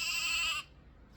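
A toddler's electronic Easter sound book plays a single sheep bleat, a short, bright, wavering tone lasting about half a second and then cutting off abruptly into quiet.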